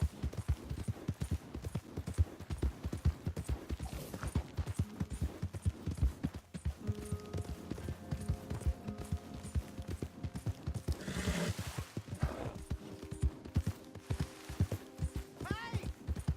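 Horse hooves clip-clopping in Red Dead Redemption 2, a fast rhythmic run of hoofbeats with a whinny partway through, set against game ambience and distant voices.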